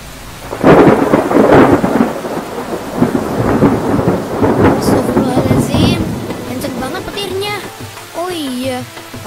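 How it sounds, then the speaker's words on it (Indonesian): Heavy rain pours steadily while deep rumbles of thunder roll through, loud and close, with a voice or two speaking briefly near the end over the downpour. "Duh, hujannya gak tepat banget sih."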